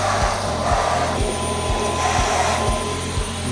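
A Dyson vacuum cleaner runs on a home renovation site, a loud continuous whirring hum with a rhythmic low pulsing, close and steady with no talking.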